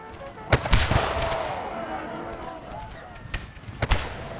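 Howitzer shelling in an Empire: Total War mod battle, with sharp booming impacts, a pair early, then a rumbling stretch and more blasts near the end, while a voice speaks.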